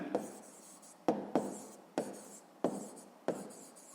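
Pen writing figures in a notebook during a sixth-grade maths exercise, close scratchy strokes in short repeated bursts with sharp starts, no talk.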